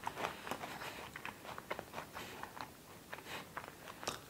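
Vegan protein chips are bitten and crunched close to the mic, giving a quiet string of sharp crisp cracks and chewing crackles in an irregular rhythm.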